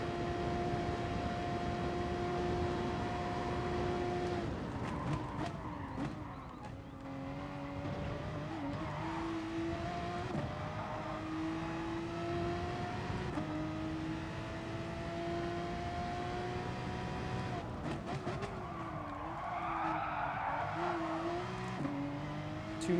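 A race car engine at Mount Panorama in a racing video game drones steadily, its pitch rising and falling through repeated gear changes and braking, with brief tyre squeals near the end.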